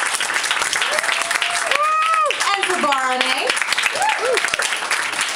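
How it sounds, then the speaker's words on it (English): Applause from an audience at an evening performance show, steady clapping throughout with a few raised voices and whoops riding over it. "Let's give another round of applause to our wonderful performers"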